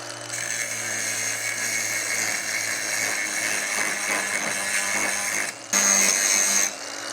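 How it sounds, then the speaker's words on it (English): Angle grinder grinding off a weld mistake on a tractor box blade, a steady loud high whine held throughout, briefly changing pitch and intensity near the end as the disc bites. "I'm going to go ahead and grind that mistake off over here on this side."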